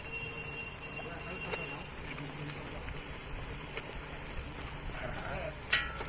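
Oil sizzles and crackles steadily as chicken fries, with a brief clink of a utensil near the end and faint voices in the background.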